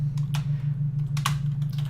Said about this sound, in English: watch me as I fail at typing.